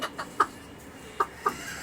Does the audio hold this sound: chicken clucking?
yes